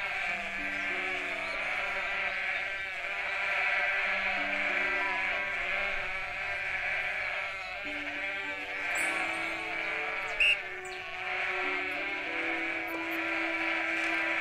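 Sheep bleating in the farming game Everdream Valley, many overlapping wavering bleats forming a steady chorus over a continuous music bed.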